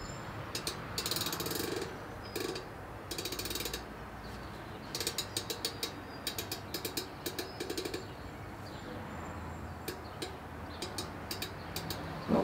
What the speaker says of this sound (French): je vais y aller avec la clé, l'outil dynamométrique